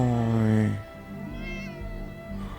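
A cat meows in the video game Fallout 76, a loud sustained mew at the start, followed by softer game ambience and someone talking.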